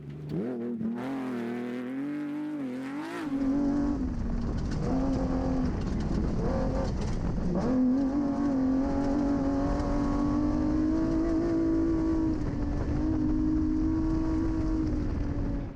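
Off-road race buggies, including a Jimco buggy, racing in the St George 399 desert race, with close loud engines revving and droning steadily, pitch rising and falling through gear changes, plus a brief burst of mechanical clatter early on.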